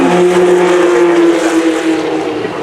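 A Williams W08 Formula 1 car passes on a festival hill-climb course, its loud, high engine note holding steady and sliding slightly lower as it goes by, close and continuous with no talk.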